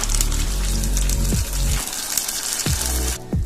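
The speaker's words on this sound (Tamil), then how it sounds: "ஜார்ல கொஞ்சம் தண்ணி ஊற்றி அதையும் குழம்போடு சேர்த்துக்கலாம்." Water pours steadily into a pot of simmering vathal kuzhambu gravy with a gushing, bubbling sound, briefly interrupted by a couple of soft knocks, no voices.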